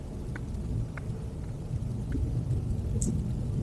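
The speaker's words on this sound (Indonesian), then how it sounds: "Gemuruh suara ban itu tipis banget" Tyre roar heard from inside a Honda CR-V fourth generation driving over medium-rough asphalt: a low, steady rumble filling the cabin, with a few faint ticks and knocks over it and no talking.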